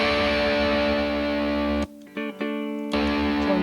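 A distorted electric guitar chord rings loud and gritty through the distortion channel of an Orange Crush Pro 60 solid-state amp, briefly cuts out, returns in stuttering hits, then sustains again.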